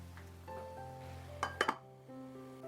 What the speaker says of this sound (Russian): Периодически я поднимаю крышку и все перемешиваю.